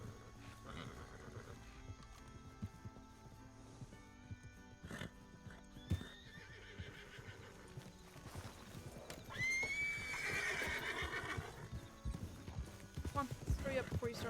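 Horse neighing and clopping hooves in the video game RedM, with galloping hoofbeats throughout and a loud whinny midway, heard under someone talking.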